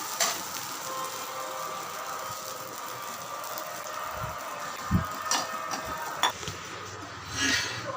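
Adda dosa cooks on a pan over a medium flame after being flipped, giving a soft, continuous frying hiss with a few faint clinks and knocks from the utensils.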